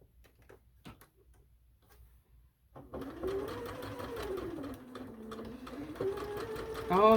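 Sewing machine stitching fabric pieces together chain-piece style, starting after a few seconds of quiet clicks and handling noises, then running steadily with a rapid mechanical hum and rhythmic needle clatter.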